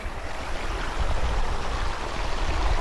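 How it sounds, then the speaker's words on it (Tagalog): Water rushing steadily down a mountain stream on a hike in Hong Kong, a constant close, full wash of flow with no pauses, growing slightly louder partway through. "Makadungog tag tubig."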